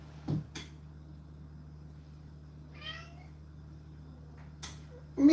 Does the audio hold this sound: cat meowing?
yes